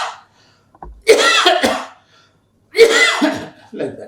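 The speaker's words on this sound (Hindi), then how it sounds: "फिर उसी टिश्यू पेपर के ऊपर खांसी कीजिए" A person coughs into a tissue paper, with two separate bursts of harsh coughing close by and a brief throat sound after, in otherwise quiet surroundings.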